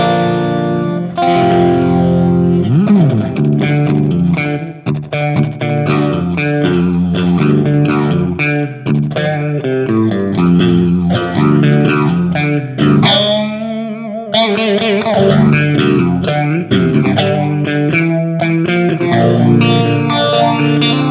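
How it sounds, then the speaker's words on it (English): An electric guitar played through a Hughes and Kettner GrandMeister Deluxe 40 amp with its phaser effect on gives a swirling, distorted sound. It plays a continuous run of chords and notes at steady loudness, with no voices. "Also cool, really usable phaser sort of sound, right?"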